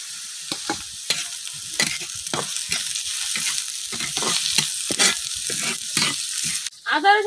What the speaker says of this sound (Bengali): আদা রসুন পেঁয়াজটা কিন্তু আমি খুব ভালোভাবে ভাজা লইছি হালকা লাল করে দা